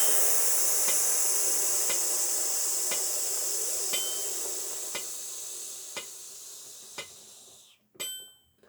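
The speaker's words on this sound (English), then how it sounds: "make sure you let out a nice long stream of air without any breaks in the middle" A long, steady breath of air is exhaled in a band breathing exercise, hissing out without a break and slowly fading, with soft regular ticks every second underneath.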